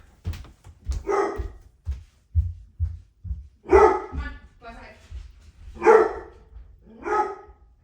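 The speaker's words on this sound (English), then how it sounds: "I just had to go let my dog out because he was just going to bark the whole time" A dog barks indoors in a run of sharp, fairly close woofs, repeated at irregular intervals with short gaps between them.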